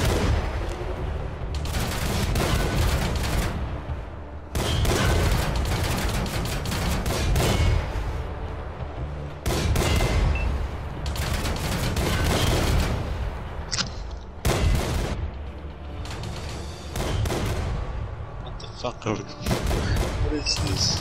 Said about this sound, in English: maybe that's not where they should be shooting him